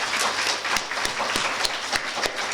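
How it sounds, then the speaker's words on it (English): Applause from a conference audience honoring the organizing committee at a one-day national conference: a steady wash of clapping with a few sharper individual claps standing out, moderately loud and continuous throughout. "So I would like all the audience to please give a huge round of applause"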